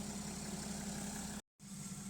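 A diesel car engine idles with a steady low rumble and constant hum, broken once by a brief cut of silence before the same idle resumes.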